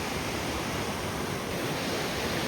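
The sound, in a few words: mountain river flowing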